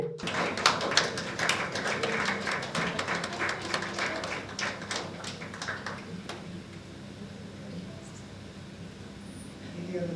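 An audience claps at a Tamil writers' award ceremony. The clapping is brisk and lively at first, then thins out and fades into quiet room noise after about six seconds.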